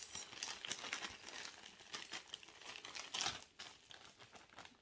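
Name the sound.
jewelry packed into plastic bubble pack and bags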